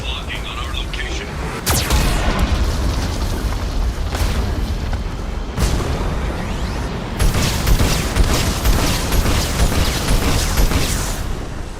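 Heavy weapon fire from a Geth cannon in the video game Mass Effect 2, loud booming blasts and sharp bursts recurring through a dense battle din, with a synthetic warning voice speaking over it.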